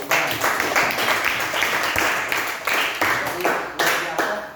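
A class of students clapping their hands in a classroom lesson, a loose, rhythmic burst of claps that rises and falls in waves, fairly close.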